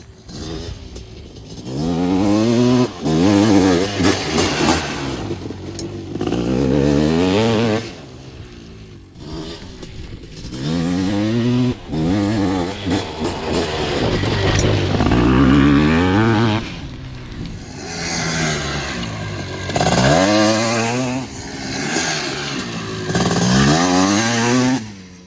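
Honda CR500 trike two-stroke engine revving hard on a desert ride, loud and close, with repeated surging throttle pulls and brief dips between runs, no voices over it.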